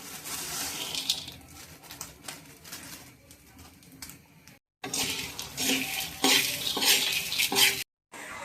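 Lentils are fried and stirred in a pot for khichuri, giving scraping and clinking utensil strokes against the metal over a soft sizzle, with bursts of louder stirring and two abrupt cuts to silence.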